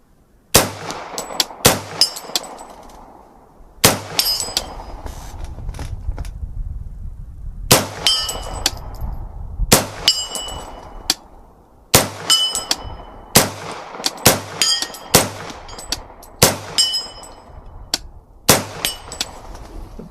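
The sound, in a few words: CMMG Banshee 45 shots ringing steel targets at 50 yards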